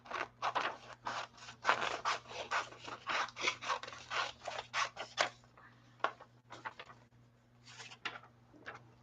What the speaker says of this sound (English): you get to watch me cut a few things out